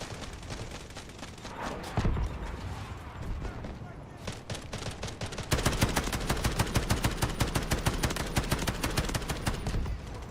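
Rapid automatic gunfire in the Battlefield 6 shooter, with scattered shots early on, then a sustained, loud burst of evenly spaced rounds over the second half, mixed with game voice callouts.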